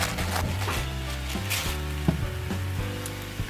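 Mushroom filling sizzles and fries steadily in a pan, with a few light clinks and stirring scrapes over the constant close crackle and no voice.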